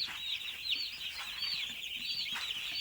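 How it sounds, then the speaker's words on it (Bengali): Broiler chicks crowded together in a brooder give a dense, continuous chorus of high-pitched cheeping that overlaps steadily throughout, close by and fairly even in loudness. "এবার মুরগিগুলো জড়ো হয়ে আছে মুরগিগুলোকে ডাকিয়ে দিতে হবে"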